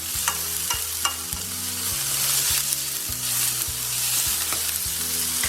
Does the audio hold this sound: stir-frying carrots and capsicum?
yes